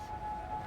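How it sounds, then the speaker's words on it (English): Tornado sirens in Birmingham during the April 27, 2011 severe storm outbreak hold a single steady wailing tone, heard briefly and at moderate loudness over low rumbling background noise. "That's the tornado sirens out here in Birmingham."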